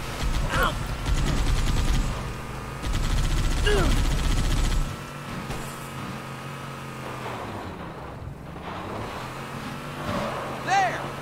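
Warthog gunner in Halo 3 on Xbox 360 lets loose rapid mounted-gun bursts over a droning vehicle engine, shots loud in the first half and then fading into scattered distant fire and engine rumble.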